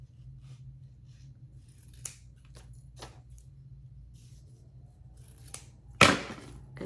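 Scissors snip ribbon on a diagonal while finishing a bow for wedding invitations: a few faint clicks of the blades, then one sharp, close cut near the end in a quiet room.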